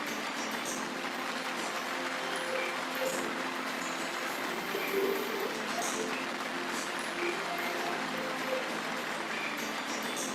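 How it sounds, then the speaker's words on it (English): Steady audience applause at a corporate learning and development festival, a dense wash of many hands clapping continuously at moderate distance, with faint tones beneath. "clap, clap, clap it out loud"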